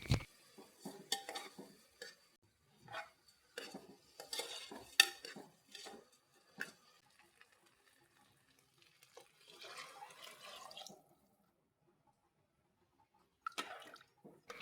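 Washed, drained rice stirred and sautéed with onions in a pan for a simple biryani: intermittent close scrapes and clinks of a spoon against the pan, in short bursts with quiet gaps and no talking.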